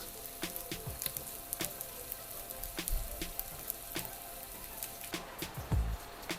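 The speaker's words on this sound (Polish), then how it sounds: "na rozgrzany olej kokosowy wrzucam te kotleciki, smażę po obu stronach." Grain-and-mushroom patties sizzle steadily in hot coconut oil, a dense crackling hiss with occasional louder pops and faint utensil clicks, close by and continuous.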